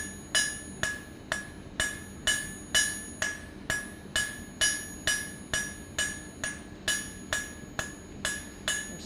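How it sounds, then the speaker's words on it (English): Hot steel is hammered on an anvil to spread out a leaf for a blacksmith-forged leaf hook, with steady, evenly spaced ringing blows close to the microphone, each a sharp metallic strike with a bright ring that quickly fades, and no talking. "I'm slightly overlapping the hammer blows"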